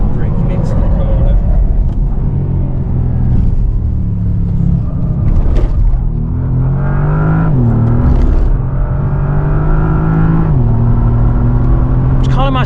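A small, quick car accelerating hard on a narrow road, the engine note rising and falling through several gear changes, loud and close from inside the cabin, while people talk over it throughout.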